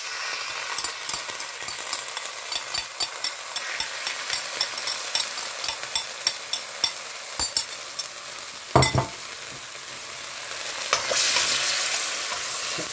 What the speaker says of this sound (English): I'm going to heat up the sauce.